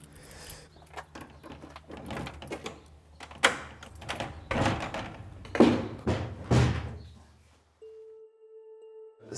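A key turns in the lock of a grotto door, followed by the door being pushed open, a series of close metallic clicks, knocks and scrapes at moderate volume, then a faint steady hum.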